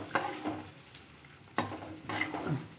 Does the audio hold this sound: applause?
no